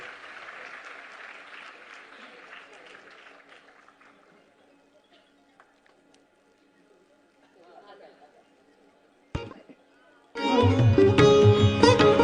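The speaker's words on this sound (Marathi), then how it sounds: "जोरदार टाळ्या होऊन जाऊ देत मंडळी" At a Women's Day inauguration of a women's honour portal and cyber wellness cell, quiet talk and murmuring give way to a sudden, loud burst of sustained audience applause at the end.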